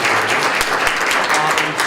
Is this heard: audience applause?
yes